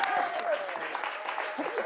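A studio audience keeps up steady applause, a dense wash of clapping with a voice speaking over it.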